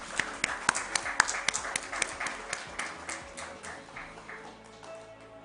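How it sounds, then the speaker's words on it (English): Applause from an audience at a company stock-exchange listing ceremony, scattered sharp claps that thin out and fade over a few seconds, fairly quiet and close. "A round of applause, please."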